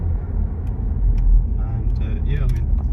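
A 2006 Audi A4 2.0 TFSI Special Edition drives along the road, heard from inside as a steady low engine and road rumble beneath someone talking.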